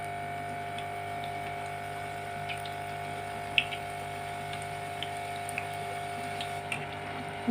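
Wheat flour dough fries in hot oil, giving a steady, dense sizzling hiss that runs unbroken and fairly close, with a few tiny pops and no voices.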